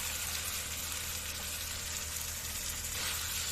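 Frying vegetables being stirred into hot oil in a pan while making a mixed vegetable dish, giving a steady, close sizzle throughout with no talk.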